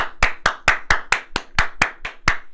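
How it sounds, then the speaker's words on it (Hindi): Eleven sharp hand claps from one person, evenly spaced at a brisk steady rhythm, close and distinct with quiet gaps between each clap. "मैं दिल से ताली बजाऊंगा"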